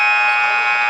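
End-of-half buzzer at a basketball game, a loud steady electronic tone holding unbroken through the whole moment over faint arena noise.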